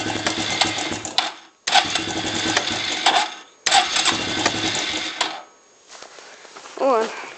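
A Suzuki QuadSport 160 ATV engine cranks over cold in three loud, buzzing bursts separated by brief pauses, followed by quieter rumble and a short voice near the end.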